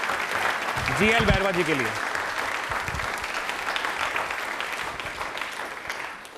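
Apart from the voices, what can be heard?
audience applause for GL Bairwa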